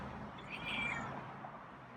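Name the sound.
cat raspy meow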